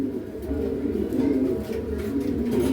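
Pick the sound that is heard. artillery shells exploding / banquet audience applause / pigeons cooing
pigeons cooing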